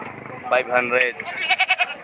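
Upgraded-breed goats at a livestock sale in Padre Garcia, Batangas, bleating close by in a quick series of wavering calls that ends in several short pulsed bleats, with people talking nearby.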